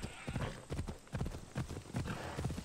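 Hoofbeats of a galloping horse in the video game Assassin's Creed Odyssey come as quick, rhythmic clip-clop thuds, fairly quiet, running evenly through the short stretch with no voice on top.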